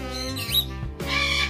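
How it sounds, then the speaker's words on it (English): A pig's short burp-like grunt close up, a couple of brief rough bursts over a tonal background. "Did you just make the burping sound?"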